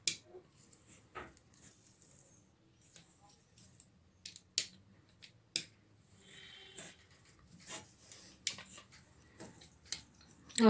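A pizza cutter slices a sheet of set sesame and jaggery chikki into pieces, giving sparse crisp clicks and cracks with faint scraping in between, close and quiet.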